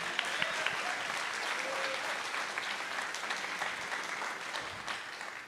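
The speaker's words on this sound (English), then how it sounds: "Big round of applause for him, please." An audience at a school jazz festival concert claps in steady, dense applause. It sounds fairly soft and distant and holds evenly throughout.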